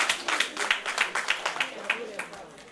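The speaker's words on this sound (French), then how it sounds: "Donc applaudissez pour vous-même." Audience applauding at the launch of a Malian women's leadership movement, a steady patter of clapping at moderate distance that thins out toward the end.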